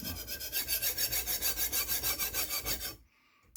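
Hard Tojiro VG10 steel knife blade drawn repeatedly across a sharpening stone, a steady rhythmic rasping of about twenty even strokes, close and loud, stopping abruptly near the end.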